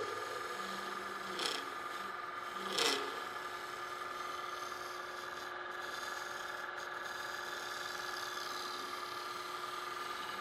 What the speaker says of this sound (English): So I use a skew as a scraper.